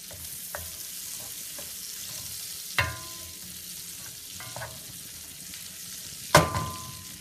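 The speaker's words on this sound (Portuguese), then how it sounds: "Agora vou juntar a cebola. Vou deixá-la fritar um pouco." Onion fries in a pan at a soft, steady sizzle, with a few sharp clacks of a utensil stirring against the pan.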